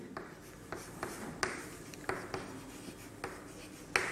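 Chalk or marker strokes tap and scrape on a board in an irregular rhythm, close and fairly quiet, as a definition of abstract nouns is written during a Hindi grammar lesson.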